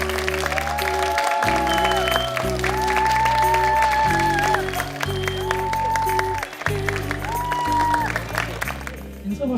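An audience at a human rights concert claps warmly to welcome a guest on stage, the steady applause running under sustained music throughout.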